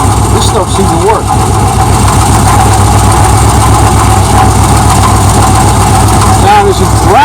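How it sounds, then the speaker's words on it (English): A 1978 Chevrolet El Camino's engine idles steadily and loudly with a rattle from the exhaust, the low rumble continuous throughout while someone talks over it. "there's a rattle back here a little bit with the exhaust"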